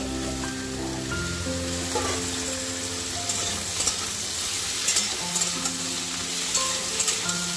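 Stalks and potatoes frying lightly in a hot pan for a Bengali dal chorchori, giving a steady close sizzle with stirring scrapes and soft clatter throughout, no talking.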